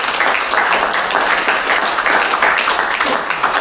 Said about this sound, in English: clapping for everyone.